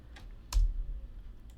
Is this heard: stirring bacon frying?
no